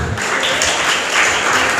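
A school audience claps steadily for a young prize winner at a children's confidence-building event, a dense, continuous wash of hand claps held at an even loudness throughout.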